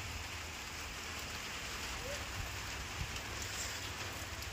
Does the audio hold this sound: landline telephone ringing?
no